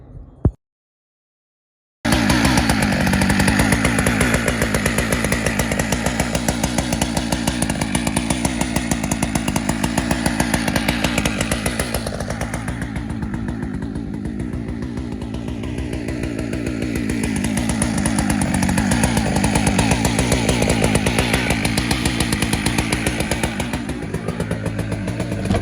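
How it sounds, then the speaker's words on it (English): After a short pause, a Holzfforma G888 chainsaw roars loud and close, its engine holding a steady buzzing drone that dips slightly and climbs again. "now it's about to be ran with chainsaws, so put your hearing protection on."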